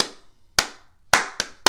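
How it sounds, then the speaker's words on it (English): Four sharp, loud hand claps in an uneven rhythm, sounded alone with short silences between them, the last three coming close together. "I'm going to clap, but you can't do exactly like me"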